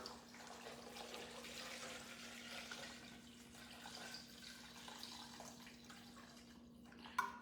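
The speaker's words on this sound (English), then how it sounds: "I'm gonna go ahead and add 8 cups of water." Eight cups of chilled water pour steadily into a blender for aguas frescas: a continuous, fairly quiet splashing rush that holds even throughout, ending with a brief knock near the close, with no voices.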